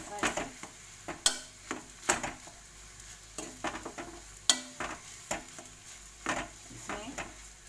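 A spoon stirs dabeli filling with chili powder in a pan, giving soft scraping strokes and light metallic taps in an irregular rhythm. A faint sizzle sits underneath, and there is no speech.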